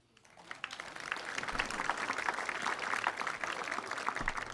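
An audience at a memorial concert claps, the applause rising quickly into a steady, dense roar that holds for several seconds.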